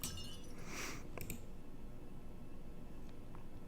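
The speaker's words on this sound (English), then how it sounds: "I heard a loud noise from the living room, like glass shattering." A glass plate shatters as a visual novel sound effect: a brief, quiet crash followed by a couple of sharp clinks, then near silence with low background hiss.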